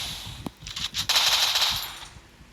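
Rapid machine gun fire in an online shooter game, sustained bursts with a sharp crack near the start, loud and close over background game noise.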